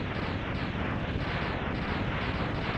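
Boss explosion sequence in the Mega Man X game on the Sigma stage: a continuous, dense roar of rapid blasts that stays steady and loud throughout with no pauses.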